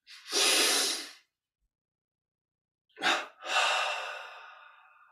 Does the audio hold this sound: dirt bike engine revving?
no